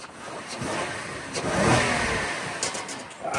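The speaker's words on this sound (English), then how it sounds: "Let's give it a little rev." A vehicle engine, a Ford F-250 in a body shop, revs once: a mid-pitched roar that rises to a peak and falls back toward idle over a few seconds, close and alone.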